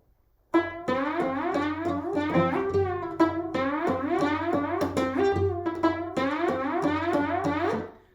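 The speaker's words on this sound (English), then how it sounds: "it uses this crazy two-handed pizzicato technique" Plucked cello strings in a brisk, bouncing rhythmic pattern, both hands picking out layered notes close up, with no voices.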